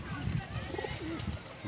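Pigeons coo at a loft in Gujranwala, including golden and Kasuri birds kept for flying, with soft low rolling coos and a few brief calls close by, under steady background noise.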